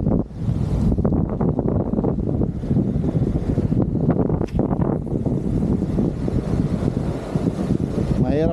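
Strong wind roars steadily across the microphone while fishing for snapper at sea in rough weather, a continuous loud buffeting with choppy surges and no break.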